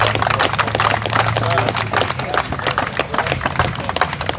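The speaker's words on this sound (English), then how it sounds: "I need you all to clap for that, brother." An audience claps vigorously in a steady, dense patter, fairly loud and close, with a low hum and some crowd noise underneath.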